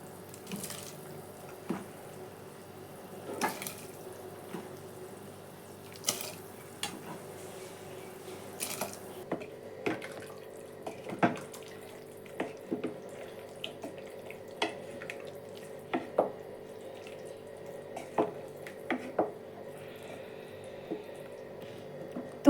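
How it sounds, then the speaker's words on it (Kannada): Avarekalu bisibele bath vegetables simmering in a pot, with quiet bubbling and scattered soft drips and clinks over a steady low background, no talking. "ನೋಡಿ, ಇದು ಇವಾಗ ಕುದೀತೈತೆ, ಮಳ್ತೈತೆ."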